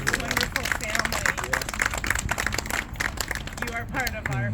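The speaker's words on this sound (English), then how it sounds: "Can we have a round of applause for John Demshar and his wonderful family?" Audience applause at a memorial ceremony honoring a fallen officer, dense clapping from a crowd that runs throughout, with voices and murmuring mixed into the sound.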